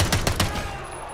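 Gunfire in a Call of Duty League pro tournament match: a quick run of three or four sharp shots, close and loud, with faint commentary voices underneath.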